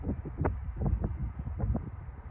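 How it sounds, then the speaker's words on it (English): Wind buffets the microphone in gusty, uneven low thumps and rumbles for a couple of seconds with no talking. "I really hate this wind"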